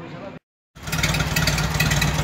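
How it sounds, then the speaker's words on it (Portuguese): A VW Beetle (Fusca) 1300L with a well-tuned carburetor idles steadily and close by, its low even engine hum starting abruptly after a brief silence and holding a constant rhythm. "motorzinho funcionando, ó, paradinho, carburador certinho é outra coisa, ó"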